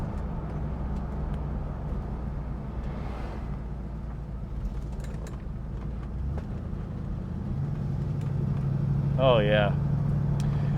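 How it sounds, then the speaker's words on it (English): A 1966 Oldsmobile Toronado's V8 idles with a low, steady rumble close by, swelling slightly toward the end, while someone speaks briefly over it. "That Oldsmobile V8 just sounds so good."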